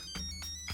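A phone ringtone chimes in short repeating pulses, three quick tones, fairly faint and clear with nobody speaking.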